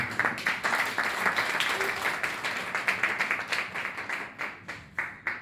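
Audience applause at a Côte d'Ivoire festival show in Abidjan, a steady wash of many hands clapping that holds for several seconds and thins toward the end, moderately near.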